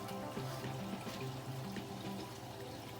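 Water from an aquaponics system drains into a deep water culture bed, giving a steady, close, continuous splashing and trickling wash with a faint low hum underneath.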